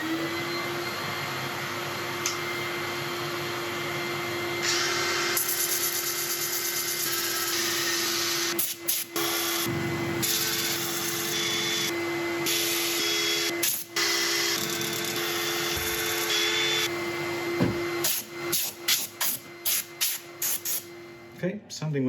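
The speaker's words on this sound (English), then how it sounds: "So ready for sanding. I'll let you watch a bit of it" A turned oak burl is sanded on a wood lathe, giving a steady, loud, hissing abrasive rush over a constant motor hum. The sanding pauses briefly a few times, then ends in a series of short, choppy strokes.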